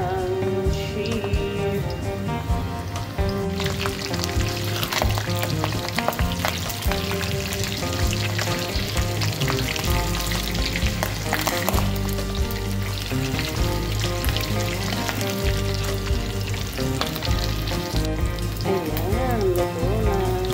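Mutton frying in a pan of hot oil at breakfast, a dense, continuous crackling sizzle heard up close for a long stretch, with background music playing throughout.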